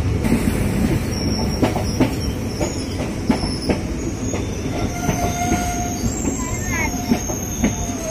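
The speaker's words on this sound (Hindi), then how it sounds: "जो कि एक छोटे से हाल्ट होते हुए जाती है, और ये त्रिवेणी एक्सप्रेस" Triveni Express passenger train rolling past near a small halt, with steady rumble, repeated wheel clacks over rail joints and brief metallic squeals, loud and close throughout.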